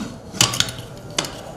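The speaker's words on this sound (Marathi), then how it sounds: "आणि कुकरला झाकण लावायचं" A metal pressure-cooker lid is set on a cooker with a few close, bright metallic clinks and taps against a quiet kitchen background.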